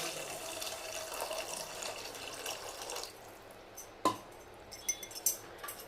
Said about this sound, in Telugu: తర్వాత చింతపండు పులుసు వేస్తున్నాను